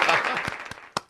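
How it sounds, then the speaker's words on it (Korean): A short burst of applause for a guest on a Korean news-team show fades into a few scattered claps, with a voice briefly heard alongside. "처음 받아보는 박수이시죠, 박수?"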